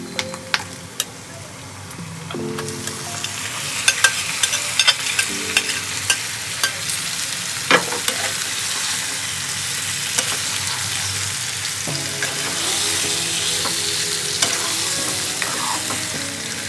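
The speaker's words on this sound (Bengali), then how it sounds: "এবার আমি ম্যারিনেট করা মাংসগুলো ফ্রাই প্যানে ঢেলে দিলাম" Marinated country chicken dropped into a frying pan over fried onions sizzles loudly and continuously, with repeated scraping and clacking of a spatula stirring the meat and no talking.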